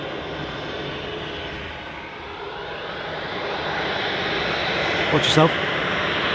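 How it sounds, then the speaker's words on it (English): An airliner on approach to runway 23 at Manchester Airport makes a broad, steady engine roar that builds slowly as it nears, while a person speaks briefly over it. "there is an aircraft on approach. About to land here on 23 right at Manchester"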